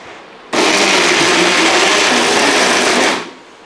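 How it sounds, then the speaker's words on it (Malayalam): A mixer grinder runs on raw chicken with chopped bread, starting abruptly into a loud, steady whirring roar that holds for about two and a half seconds and then winds down. "ബ്രെഡ് കൂടെ ഇട്ടതിന് ശേഷം നമുക്കൊന്നുകൂടെ അരച്ചെടുക്കാം"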